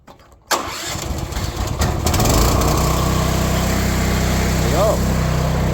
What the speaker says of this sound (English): this little direct drive 4 gallon per minute pump will pull from the buffer tank, no problem